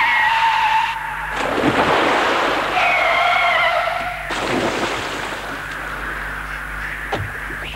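A Volvo 460 brakes hard from 100 km/h before a lake, tires skidding with a loud harsh screech in two long bursts, close and alone.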